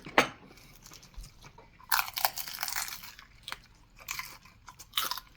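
Bites into a crunchy fried snack, likely handmade fried mandu from a Gyeongdong Market shop, giving several close, sharp crunches spread through the clip with quiet chewing between them and no talking.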